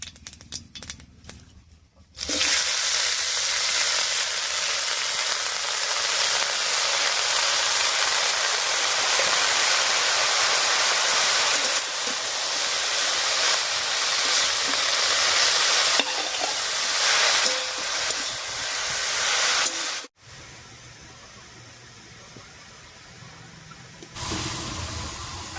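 Pumpkin greens land in hot oil seasoned with radhuni seeds for a pumpkin-greens and eggplant dish, bursting into a loud, dense, close sizzle that holds for about eighteen seconds before cutting to a much quieter hiss.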